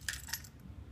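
Everyday-carry house keys on a simple ring with a small alarm attached, giving two quick metallic jingles close up, then a faint rustle, with no talking.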